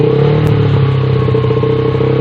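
Close and loud, a Honda Verza 150 motorcycle with an Akrapovic aftermarket exhaust is held at mid throttle, giving a dense continuous roar with a rough, crackly texture.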